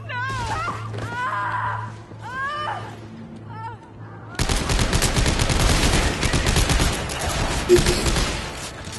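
Automatic fire from an Uzi-like gun in the Dead Space 3 video game erupts halfway through as a loud, dense, sustained burst. It follows moaning, wailing game voices and continues steadily to the end.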